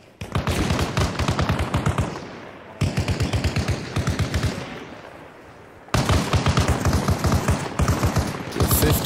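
A .50 cal machine gun fires in Arma Reforger in long, loud bursts of rapid evenly spaced heavy shots, with short pauses between bursts and a continuous final burst.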